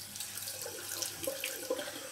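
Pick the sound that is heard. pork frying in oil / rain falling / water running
water running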